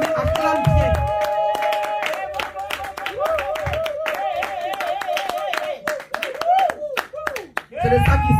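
A church congregation claps hands during worship, with sharp, rhythmic claps that run steadily alongside a sustained sung or spoken voice, and louder speech comes in at the start and end.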